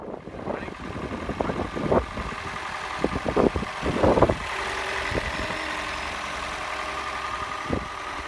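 Toyota Prius engine running after repair of a blown-fuse electrical short and a coolant fix, a steady close idle hum overlaid with irregular clicks and knocks from handling nearby, no talking.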